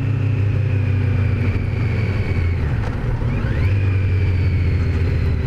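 A 2018 Kawasaki Z900 engine braking as it slows, a steady low droning exhaust rumble with continuous wind roar throughout and a brief shift in pitch partway through, loud and close.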